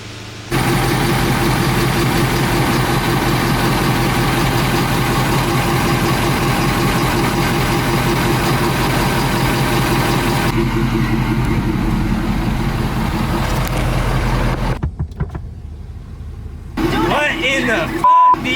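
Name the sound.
truck engine running, 2023 Ford Bronco Wildtrak build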